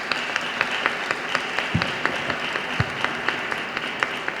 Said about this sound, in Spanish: Lo recibimos, por favor, con un gran aplauso.